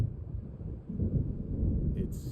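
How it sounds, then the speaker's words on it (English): Low, rolling thunder rumbles from an approaching storm in the video game Alan Wake Remastered, a loud, continuous rumble that swells and dips without a break. "It seems there's a storm coming."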